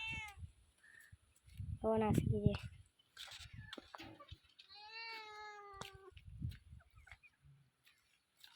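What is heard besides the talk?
cat meowing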